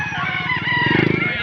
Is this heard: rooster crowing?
yes